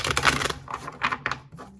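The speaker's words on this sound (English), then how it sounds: "Soft shuffle." A tarot card deck being soft shuffled, giving a few short papery riffles and slides close by, with quieter gaps between bursts.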